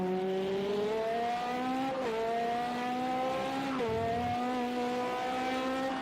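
An on-board race car engine in a sim racing game endurance race at Le Mans, droning loudly and steadily through the gears, pitch climbing, dipping briefly at two upshifts, then climbing again, with no talking.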